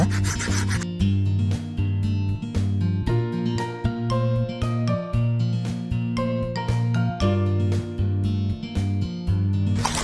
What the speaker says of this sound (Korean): 우선 굵은 사포로 굵은 사포로 사포질 연결 좀 해주고